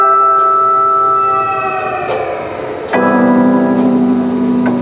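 Old cassette tape playing inside the PC game Season: A Letter to the Future, a steady tonal drone of held notes that shifts pitch midway, briefly thins, then swells back fuller with a low sustained tone and soft hiss.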